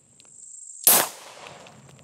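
A single sharp gunshot from a PSA Dagger pistol fired with a loose, limp-wrist or one-handed grip, loud and close, with a short ringing tail fading over about a second.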